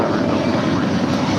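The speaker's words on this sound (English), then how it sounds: "that is Delta Airlines 548 off to their hub at Atlanta" A five-year-old Delta Airlines A321 jet departs LAX, its engines giving a steady, loud broadband roar that stays even across the whole stretch, with no voices.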